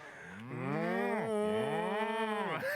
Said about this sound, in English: that's like a cow sound